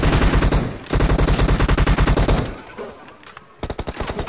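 Automatic gunfire in the battle royale game BGMI, loud rapid bursts of repeated shots, a brief lull with scattered single shots, then another fast burst near the end.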